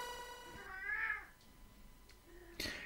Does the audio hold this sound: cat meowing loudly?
yes